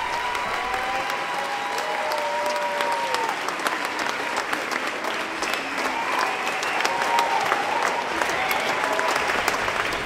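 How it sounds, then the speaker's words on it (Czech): A cinema audience applauding in a screening hall, dense sustained clapping from many hands that holds steady throughout, with faint voices mixed into the crowd. "tam tleskají."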